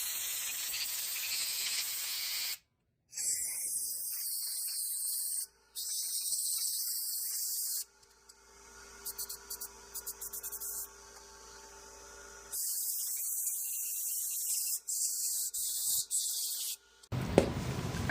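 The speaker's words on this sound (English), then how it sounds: "let's go ahead and compress or blow some compressed air at this as well" Compressed air blasts onto a Toro mower carburetor in several bursts of loud hiss with short silent gaps, plus a quieter, flickering stretch in the middle.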